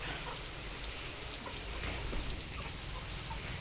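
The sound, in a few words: rain falling during a typhoon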